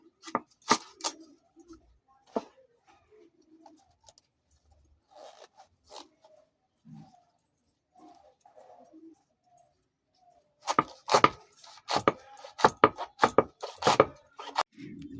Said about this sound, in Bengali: বাঁধাকপি কুচাচ্ছি জানো তো